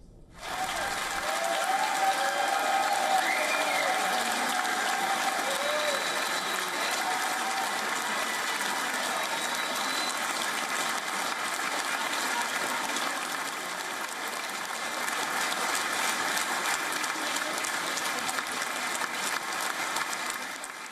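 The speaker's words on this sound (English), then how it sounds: "he and his team received rapturous applause at Israeli Knesset" Lawmakers in the Israeli Knesset chamber break into rapturous applause, a sustained, roomy roar of many hands clapping at moderate distance, swelling early and holding steady for a long stretch with faint tonal hum beneath.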